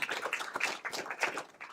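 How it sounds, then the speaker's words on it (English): An audience at a legislative traffic safety event breaks into scattered, uneven clapping, thin and fairly distant, with no one talking. "Could we have a round of applause for this guy's leadership and Jake's as well?"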